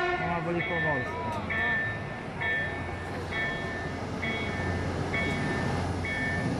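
A train rolls past near the Polish coast on the line toward Gdynia, a steady rumbling roar with repeated tonal squeals and rail clatter, while people talk nearby over it.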